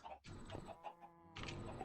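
Minecraft chickens cluck faintly in short, soft bursts, a quiet pixel-farm sound with a voice speaking over part of it.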